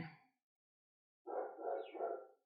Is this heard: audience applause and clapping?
no